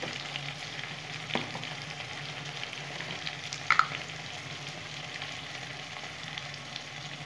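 Ground cumin and coriander powder fry in a pan for gandharaj chicken, a steady low sizzle running throughout, with one brief sharper clink midway.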